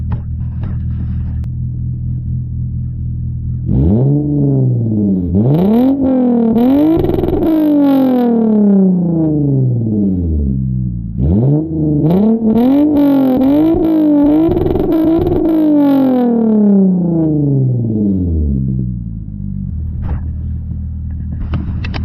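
A loud Lexus car engine idles with a deep rumble, then revs hard twice in long rising and falling sweeps, each blip climbing sharply before settling back to a heavy idle, close and without talk.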